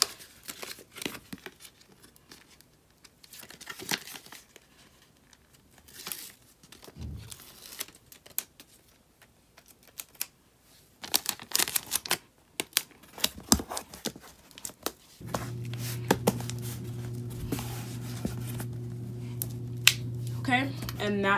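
Adhesive tape pulled off and pressed down to seal a cardboard box, with crinkling, tearing strips and patting rubs in short bursts, followed by a steady hum under the later handling.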